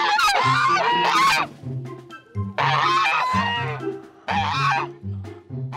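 Geese honk loudly and close by on a farm in repeated harsh bursts, several calls overlapping with brief pauses between.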